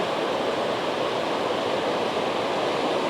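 Grey glacial river flowing steadily, a constant broad rushing wash of water, moderately loud and unbroken with no voices.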